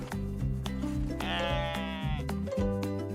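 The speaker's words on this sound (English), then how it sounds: "It's a goat." A goat on a farm gives a loud, wavering bleat in the middle, set against a busy layered background of music-like tones.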